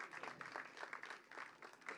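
An audience at the Tribanadhari Barbarik teaser launch claps in a steady wash of applause as guests are welcomed onto the stage, heard fairly softly and without speech.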